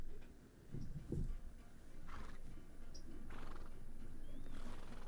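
A horse in a video game whinnies in short bursts early on, with faint hoof clip-clops and ambient game sounds around it, all fairly quiet.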